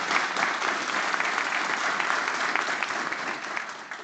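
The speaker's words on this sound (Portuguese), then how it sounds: "Para a Lobo Lab também, uma forte salva de palmas" An audience at a Sicredi Serrana general assembly applauds Lobo Lab with loud, dense, sustained clapping that continues evenly for about four seconds.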